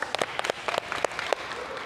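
A small group of people claps for a group of students after a rhythmic gymnastics exercise, sharp uneven claps, fairly faint and brief, with some faint voices behind.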